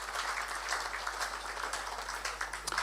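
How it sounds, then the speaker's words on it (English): An audience at the GFA Ordinary Congress at Ghanaman Soccer Centre applauds the champions with dense, steady clapping that fills the hall, without a break and with no talk over it. "Can we give them a round of applause, please?"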